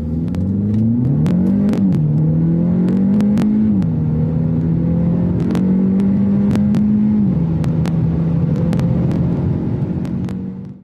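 A Hyundai Elantra N Line accelerates hard on a timed run, its engine droning loud and close with rising pitch that drops briefly at each upshift, alone without talk until it fades at the end.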